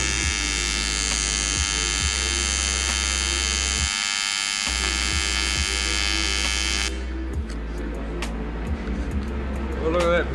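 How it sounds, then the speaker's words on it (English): Welding on the exhaust of an SR20VET-powered GT86 race car produces a steady loud electric buzz with short breaks between welds, which cuts out near the end, leaving a quieter room with clicks and light handling noises. "just welding on."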